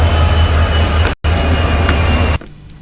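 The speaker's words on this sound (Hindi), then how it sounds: "ये आप आइसोलेशन ट्रेन देख रहे हैं" Loud, continuous rumble of train coaches at Bhopal railway station, with a steady low drone and a faint high ringing tone, a brief cut midway, then a sudden drop to a quieter background.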